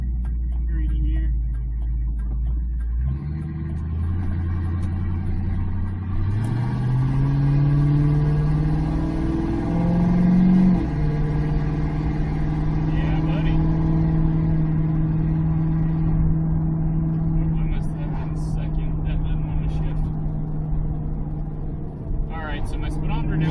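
A Ford Fairmont with GT40P cylinder heads cruising on a 55 mph road, its engine droning steadily from inside the cabin and rising in pitch as it gains speed, with a faint ticking and someone talking over it.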